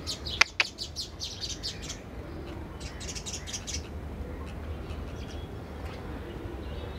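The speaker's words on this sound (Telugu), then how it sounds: "మా పిచ్చుకలండి" A flock of sparrows chirps in a garden, a burst of rapid overlapping tweets up close at first, then scattered calls continuing more softly over a low background hum.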